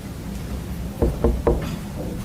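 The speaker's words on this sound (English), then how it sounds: "softly knocked on the door." Three soft knocks on an apartment door, evenly spaced and close, followed by quiet room tone.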